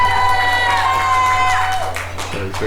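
Wrestling crowd at a GLWA show rallying behind the inaugural tag team champions, a sustained roar of cheering and shouting under a commentator's voice, fading slightly near the end.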